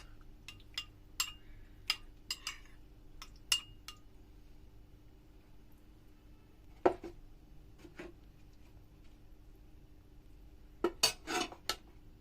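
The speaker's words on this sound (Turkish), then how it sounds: "Bunları güzelce çırpalım." Egg and a spoonful of yogurt whisked in a bowl for a Sinop onion-and-walnut börek glaze, heard as scattered sharp utensil clinks against the bowl in quick bursts, then a pause, then a final cluster of taps, with no talking.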